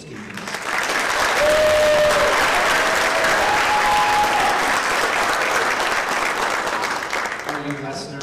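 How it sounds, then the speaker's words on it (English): Sustained applause from a school concert audience after a winter band performance, loud and steady for about seven seconds before tapering, with a few whistles and cheers rising over the clapping. "one more round of applause for these wonderful students"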